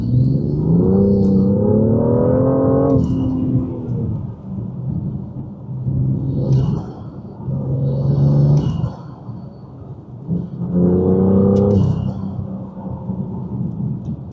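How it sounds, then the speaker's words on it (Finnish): A BMW M2 with an upgraded intake driving outdoors, engine droning in repeated rising pulls between downshifts, loud and close, with a faint high turbo whistle over the rumble. "Kaikki nämä downshiftit ja muut, niin kuuluu niin paljon selkeämmin tuo turbovihellys"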